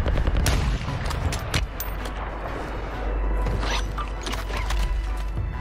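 Rapid gunfire in Warzone 2, a sniper rifle shot amid a run of loud sharp bursts and cracks, repeated strikes through the opening seconds with a dense battle din continuing behind.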